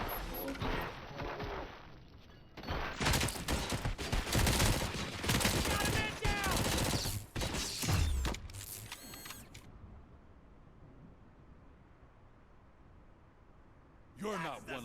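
Gunfire in the RoboCop: Rogue City video game comes as dense, rapid bursts of shots and clattering mechanical noise over several seconds, mixed with voices. The firing drops into near silence, then a short loud burst returns at the end.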